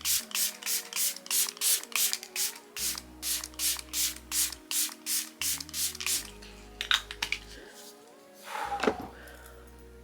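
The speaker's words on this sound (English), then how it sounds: "So I do that Danessa Myricks setting spray and I let it dry." Rapid bursts of Danessa Myricks makeup setting spray misted onto a face, about a dozen quick pumps in an even rhythm, close and fairly loud, followed by a few softer scattered sprays and a brief rustle.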